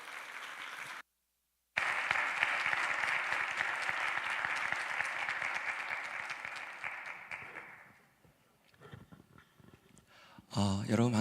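Congregation at a church young adults' service claps to welcome a pastor: sustained, dense applause for several seconds after a brief silent gap, fading out before a voice begins speaking at the end.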